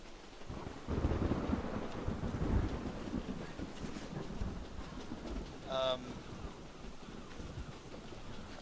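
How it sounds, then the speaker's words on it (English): A stormy sea with rumbling thunder and crashing waves battering a boat, a broad low roar swelling and fading throughout with a brief higher tonal burst midway, no talking. "The waves getting crashing over the boat, ship, thunder beginning to come down all around you."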